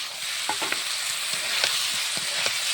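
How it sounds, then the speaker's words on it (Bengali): Taro stems being stirred and fried in oily spice masala in a pan, a steady sizzle broken by several spatula scrapes and clinks, close up with no talk. "নাড়িয়ে করে সুন্দর করে কষিয়ে নিচ্ছি সুন্দরভাবে"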